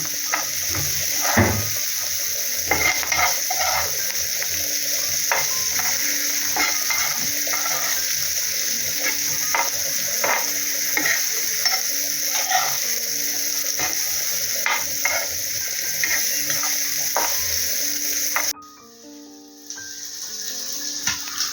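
Bombil fish fry over a low gas flame in a Malvani-style kitchen, giving a steady close sizzle with soft clinks and scrapes, then the frying sound drops off abruptly near the end.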